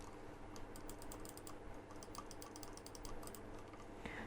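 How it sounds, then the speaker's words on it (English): Rapid plastic clicks from the left and right buttons of a Sims 3 Illuminated Aqua PC mouse, a steady close-up run of crisp taps over a low background hum. "It has a nice solid click to it, and these buttons are actually quite responsive."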